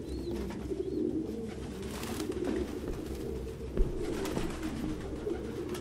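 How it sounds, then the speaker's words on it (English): Pigeons coo softly and repeatedly in a game scene from Detroit: Become Human, their low throaty calls rising and falling over a murmuring ambient backdrop with occasional faint knocks. "No human could live with all these fucking pigeons."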